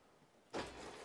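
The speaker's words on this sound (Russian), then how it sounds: "И вот мы опускаем кровать и поднимаем кровать." The electric drop-down bed of a Pilote 746 motorhome starts to lower with a soft click, followed by a steady motor whir close by and fairly quiet.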